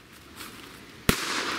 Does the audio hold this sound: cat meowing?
no